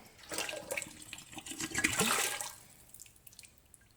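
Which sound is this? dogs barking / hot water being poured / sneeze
hot water being poured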